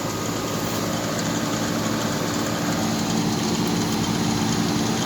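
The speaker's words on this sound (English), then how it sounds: "Barely hear that compressor though. I don't even know if the compressor's running. Oh no, it's running." A 2004 Tempstar central air conditioner, its coils in poor shape, runs with a steady, even hum from the outdoor compressor unit, continuous and unbroken at moderate level with no talk.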